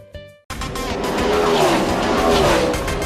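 NASCAR-style race cars roar loudly in New England stock car racing, a sustained engine howl with tire squeal sweeping past after a brief cut-in, dense and close with no talk.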